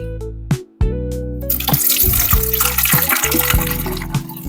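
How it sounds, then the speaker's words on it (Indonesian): Water pours steadily into a container while a children's toy is being unboxed, a close, continuous splashing gush that rises in pitch as it fills, with music-like tones at the start before the pour begins. "Sekarang airnya. Ayo kita tuang"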